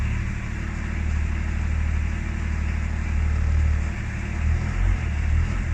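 A 5-litre Range Rover P38 engine revs in gear with the handbrake on, a steady loud throaty drone that swells and eases a few times over several seconds, close by and with no talk.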